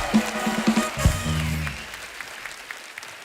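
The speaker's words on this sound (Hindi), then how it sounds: "तो एक बार जोरदार तालियां हमारे मेहमानों के लिए" Studio audience applause for guests on The Kapil Sharma Show, a brief burst of clapping over a musical sting that fades quickly into quiet.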